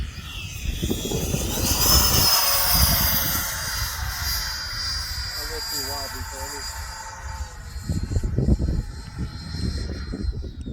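A Freewing F/A-18C RC jet with electric ducted fan flies overhead, a loud whining rush that swells near and then fades, with rough broadband bursts and faint talk in the background.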